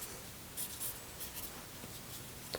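A pencil scratches softly across paper in short repeated strokes while sketching a person in winter clothing, faint against a hissy quiet room.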